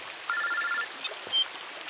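A telephone rings in a single short electronic burst of bright, steady tone, then stops, leaving only quiet background.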